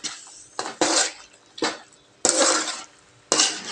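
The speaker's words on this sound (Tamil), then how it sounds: "மேலே கொஞ்சமாக நல்லெண்ணெய் சேர்த்துக்கலாம் நம்ம சேர்த்து கலந்துக்கலாம்" Mango pickle being mixed with sesame oil in a vessel, with a spoon scraping and clinking against the container in several separate bursts, close and fairly loud.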